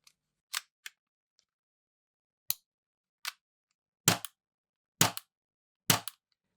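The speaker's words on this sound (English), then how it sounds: "Bolt lock is working. full auto working properly." An empty AAP-01 airsoft pistol dry-fires with sharp, close mechanical clacks: a few isolated snaps, then three short rapid bursts of full-auto cycling with near silence between them.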